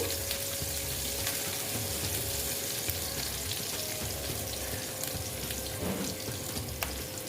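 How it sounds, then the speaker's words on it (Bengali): Chopped onions frying in a pan for Bengali boal fish curry give a steady, dense sizzle that carries on unbroken, with faint scrapes of stirring and no voices. "পেঁয়াজটা একটু ভেজে নিচ্ছি"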